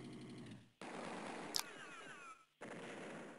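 Units trading fire in the video game Advance Wars, sustained rattling machine-gun-style bursts in two loud blocks separated by brief pauses, with a sharp high impact blip between them.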